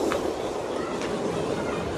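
A local train rumbles past near a bridge with a steady rolling roar and faint rhythmic clatter of wheels, fairly close, while a voice is heard faintly.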